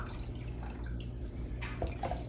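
Water pours into a pot on a stovetop while making a Danish dessert, a soft steady splash and trickle heard close up with no talk over it.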